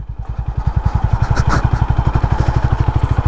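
A Honda Highness CB 350 motorcycle is ridden off-road in second gear, its engine thumping in fast, even pulses, loud and close, with a brief rise in rattle and wind noise midway; no talking.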